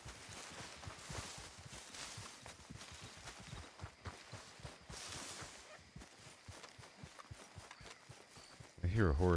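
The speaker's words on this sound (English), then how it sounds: "I hear a horse." Horse hooves clip-clopping in Red Dead Redemption 2, a quiet, fairly steady series of soft thuds along a path with faint rustling behind, ending in a brief louder burst.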